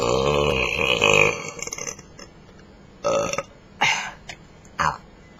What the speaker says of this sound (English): That last little burp then